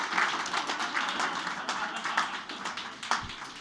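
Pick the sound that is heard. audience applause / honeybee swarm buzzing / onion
audience applause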